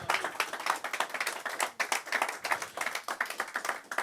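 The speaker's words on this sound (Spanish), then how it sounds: "Dele fuertes palmas al Rey de Reyes y Señor de Señores." A church congregation clapping hard and fast together, a dense rhythmic patter of many hands that keeps up steadily for several seconds.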